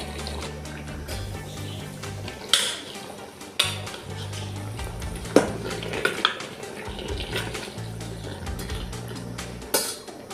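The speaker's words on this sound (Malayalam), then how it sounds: "നമുക്കിതൊന്ന് ഇളക്കി ഇടാവേ" Clanking metal utensil scraping and knocking against a pot of pork curry, several sharp clinks over a wet, bubbling background.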